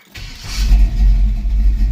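A V8 Chevy engine fires up close by: a brief crank catches within a fraction of a second into a loud, deep, throbbing idle rumble, with no voices present.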